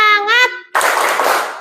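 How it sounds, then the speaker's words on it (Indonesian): A group of schoolchildren in a classroom does a spirit clap, a burst of loud, dense clapping filling the second half after a brief adult voice at the start. "Ayo kita tepuk semangat dulu ya."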